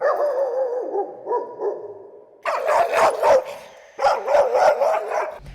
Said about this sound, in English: It's what we call alert barking.